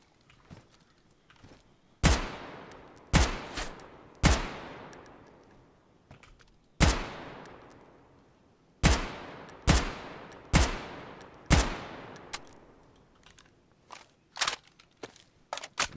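Gunfire in the video game DayZ on the Chernarus map: loud single shots roughly a second or two apart, each with a long echoing tail, then quicker lighter shots near the end, with no talk.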